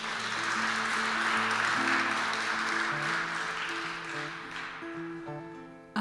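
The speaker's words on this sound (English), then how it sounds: "give the whole program a round of applause" Applause from an audience at a live stories-to-songs music performance, a steady wash of many hands clapping that slowly tapers off, with faint sustained musical tones underneath.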